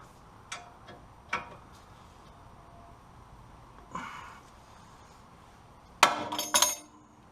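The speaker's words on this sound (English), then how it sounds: "after that taper joint went bang" Range Rover L322 control arm taper joint being forced apart in a workshop: scattered sharp metallic clicks and knocks in a quiet space, ending in a loud crack followed by a short rattling clatter.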